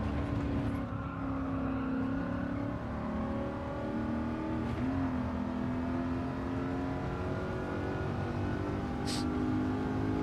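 BMW Z8 in a time trial, engine note falling and rising as it brakes into a corner, a loud continuous tone with shifting pitch and steady road rumble beneath.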